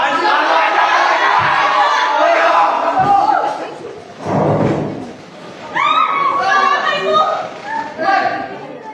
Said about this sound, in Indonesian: Ini kerumunan ilegal. Bubarkan diri atau